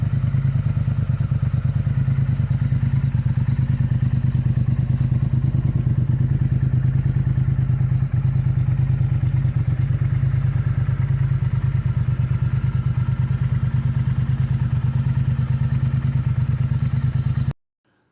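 A Triumph Thruxton R motorcycle engine idling steadily just after being started for the first time in a long while, a loud, close, even low rumble that runs unbroken until it stops abruptly near the end.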